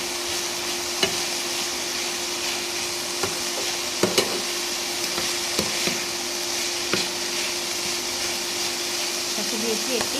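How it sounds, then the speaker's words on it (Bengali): Banana flower curry with salt and turmeric cooks in a pan, giving a soft steady sizzle with a few sharp knocks and scrapes from stirring, close by, no voices. "এবার এটাকে আরেকটু নাড়াচাড়া দিয়ে ঢাকা দিয়ে"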